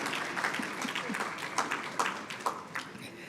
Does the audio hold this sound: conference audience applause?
yes